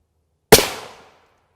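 A rifle fires a P80 black tip round into Hwin Level IV body armor: one sharp, loud crack with a short trailing decay, heard alone against silence.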